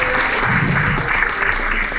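A theatre audience at a slam poetry finale claps warmly as performers return to their seats, a brief burst of steady, dense applause throughout.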